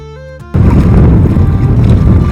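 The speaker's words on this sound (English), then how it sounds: "I've been paddling into the wind now for the past 2 days" Strong wind roars across the microphone while a man paddles into a headwind on the Mississippi River, a loud continuous rushing gust that bursts in after a brief quiet tonal opening and stays steady with choppy water.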